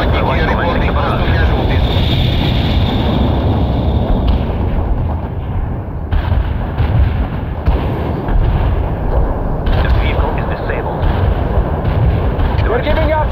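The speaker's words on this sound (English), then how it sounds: "Artillery strike on the way." An artillery barrage rumbles in the World in Conflict video game, with dense, continuous booms and blasts layered alongside aircraft noise and radio voices throughout.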